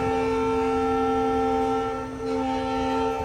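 A Kacheguda train sounds a loud, sustained horn at a railway station on the line to Vasco da Gama in Goa, the steady blare continuing for the whole stretch over a low rumble.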